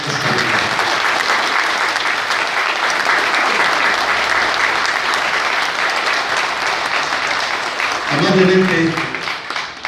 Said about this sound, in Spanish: Vamos a brindarle un aplauso